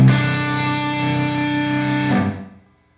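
A distorted electric guitar chord rings through a Revv G20 guitar amplifier with its Hall A reverb turned up, sustaining loud and steady for about two seconds before trailing off into a short fading tail.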